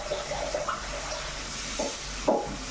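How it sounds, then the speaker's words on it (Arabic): Water is poured into a pot of browned fried rice, a brief gurgling splash with a few small bursts, close by and moderately loud, without talking. "هحط ايه شويه ميه"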